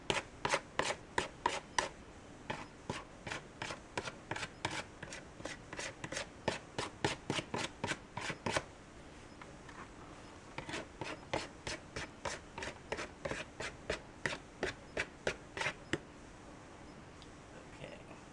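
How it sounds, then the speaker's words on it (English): A whisk beats pumpkin cheesecake batter in a bowl with quick, even, rhythmic strokes, close and fairly quiet, pausing briefly midway before resuming. "Now I'm using my whisk."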